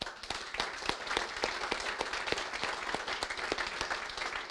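Audience applause after a South Carolina governor's speech announcing an I-73 expansion, a dense steady roll of many hands clapping indoors with sharp individual claps standing out.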